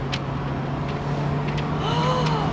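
A 1980s SAAB 900 Turbo drops a gear and pulls hard, a steady engine drone rising slightly in pitch over a couple of seconds from inside the car, with faint background voice.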